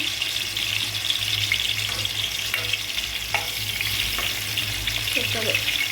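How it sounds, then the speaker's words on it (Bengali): Teasel gourd (kakrol) frying in a pan, a loud continuous sizzle close by with occasional stirring scrapes and soft clinks, no voices. "কাঁকরোল ভেজে নিচ্ছি।"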